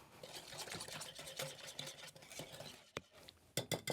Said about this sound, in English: So we'll whisk that in.